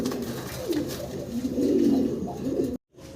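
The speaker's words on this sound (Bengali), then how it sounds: "আমরা ভিডিও স্ক্রিনে বাইরে দেখতে পারতেছি একজোড়া সাদা কাগজি কবুতর" A pair of white Kagji pigeons coo close by in soft, rolling, repeated calls that swell and fade, then stop abruptly near the end.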